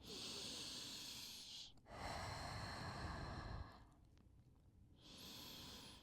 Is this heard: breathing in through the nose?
yes